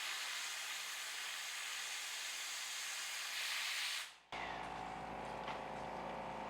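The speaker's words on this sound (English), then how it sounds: "Switch to compressed air." Compressed air hisses steadily through the nozzle of a diode laser cutter, a loud broadband rush that cuts out abruptly, then resumes at a lower, fainter level.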